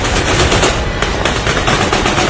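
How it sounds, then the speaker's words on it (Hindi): Dense, continuous automatic gunfire in combat between Taliban fighters and the Afghan army, loud and close, with rapid overlapping bursts and no pauses throughout. "गोलियां बरस रही हैं।"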